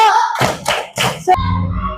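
Students in an Indonesian madrasah primary classroom perform a 'tepuk diam' clapping chant, with a few loud, sharp claps mixed into rhythmic chanted voices, close and clear.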